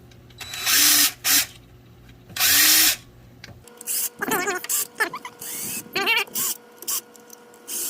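An impact gun with a flex drive attachment rattles off bolts near an oil filter housing during a gear reduction starter install, firing in several short loud bursts separated by clanks and quiet gaps.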